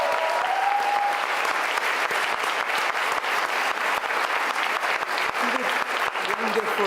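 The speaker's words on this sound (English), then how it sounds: "please give a round of applause to our MC, to the wonderful Monica" An audience at a LatinX graduation ceremony claps for the MC, a loud, dense, sustained round of applause close by, with a few voices and cheers rising near the end.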